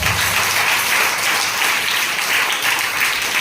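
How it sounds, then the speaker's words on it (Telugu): A church congregation clapping together in a hall during a Sunday service, a dense and steady wash of applause at even loudness throughout. "చప్పట్లు కొట్టుకోండి."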